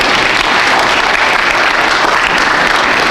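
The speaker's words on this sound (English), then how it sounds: "So let's all give Spencer a hand, okay?" An audience applauds a choral soloist, a dense, steady wash of clapping that stays loud and even throughout with no voices on top.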